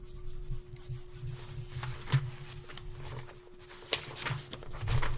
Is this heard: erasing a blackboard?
yes